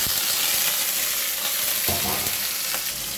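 Onion and beans added to hot oil, with a loud steady sizzle of frying close up and occasional stirring clinks, no talk.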